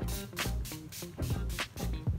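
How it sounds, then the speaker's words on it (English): Urban Decay All Nighter setting spray fires in a rapid series of about eight short, close, hissing pumps in an even rhythm. "I would always use a setting spray. So what I'm gonna use is the Urban Decay All Nighter."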